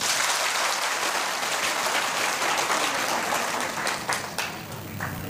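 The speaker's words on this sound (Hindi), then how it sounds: "तो फिर ताली तो बजाई दीजिएगा" A crowd at the close of a Hindu religious darbar gathering claps together in a dense, steady wash of applause that holds for several seconds, then thins slightly near the end.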